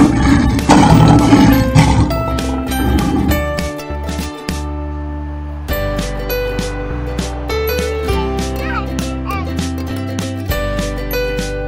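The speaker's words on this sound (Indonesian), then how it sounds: "Singa." A lion's roar from a toy animal names-and-sounds set comes loud and rough at the start, then gives way to a steady musical backing that fills the rest.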